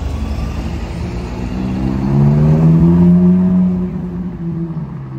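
A Ferrari Purosangue's engine revs close by on a city street, its note swelling to a strong peak midway and then easing back, with no voices over it.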